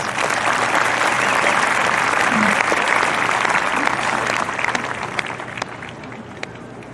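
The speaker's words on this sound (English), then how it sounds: "We could give them a round of applause, please." Sustained, loud applause from a graduation audience at Carter High School's 2025 ceremony, honoring invited guests such as county officials; dense clapping fills the whole stretch and eases slightly toward the end.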